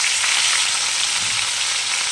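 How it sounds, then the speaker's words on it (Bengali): Chopped ginger and garlic fry in hot oil, producing a steady, loud sizzle heard up close, with a few faint low knocks underneath and no speech. "আর একটু আদা কুচি"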